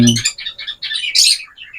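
A very small pet bird under egg-binding treatment gives a quick run of high, thin chirps and tweets, close and fairly loud, with a brief low voice at the very start.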